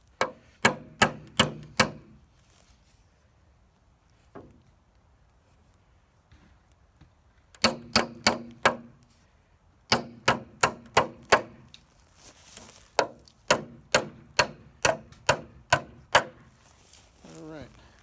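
Hammering a nail into a wooden board on a greenhouse wall: sharp, regular strikes in several quick runs of six to ten blows, with short pauses between runs, heard up close.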